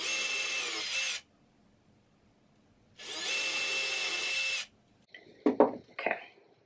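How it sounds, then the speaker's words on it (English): A power drill whirs in two steady bursts separated by a pause, drilling a pilot hole in wood, then a few brief knocks and scrapes close by. "I'm going to drill a pilot hole here."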